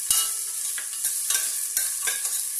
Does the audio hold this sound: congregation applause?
no